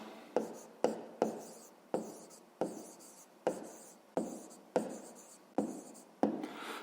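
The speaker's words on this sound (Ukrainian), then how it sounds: "зараз записуємо відповідь. Пишемо відповідь." A pen writes on paper while a fifth-grade math exercise is being worked through, making about a dozen short scratchy strokes in a steady rhythm, each a quick close rasp separated by brief pauses, quiet and with no talking.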